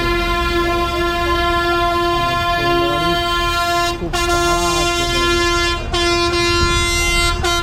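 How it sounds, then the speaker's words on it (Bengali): A train rolls past a railway crossing on the road from Vizag to Daringbadi, with a loud, sustained horn tone over rumbling wheels and a few sharp clanks as the cars go by. "রেল যাচ্ছে এখন।"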